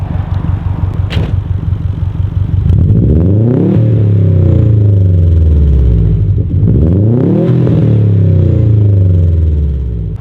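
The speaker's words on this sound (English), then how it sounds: "Chino, go rev it up real quick" A Subaru STI fitted with a new Invidia G200 exhaust revs hard twice, each blip rising and falling in pitch over a loud, deep steady idle, with no talking.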